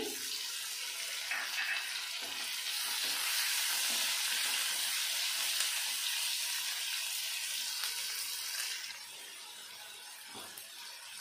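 Chopped tomato and onion fry in a pan for prawn malai curry, a steady broad sizzle that swells, holds loudly, then eases off near the end, with a few faint stirring scrapes and no talk.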